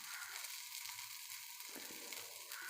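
Food frying in a pan gives a steady, bright sizzle that stays close and even throughout, with faint low bumps beneath it and no talking.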